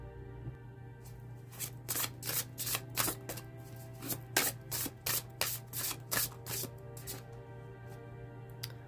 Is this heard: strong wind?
no